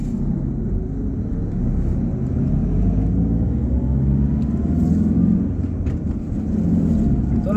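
Dense, congested road traffic at a stoplight during rush hour, heard as a steady low rumble of many idling and slowly moving vehicles, continuous and fairly loud with no clear single passes.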